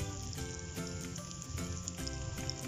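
Bread-crumbed chicken legs frying in hot oil give a steady, dense sizzle with crackling bursts, close and continuous throughout with no talking.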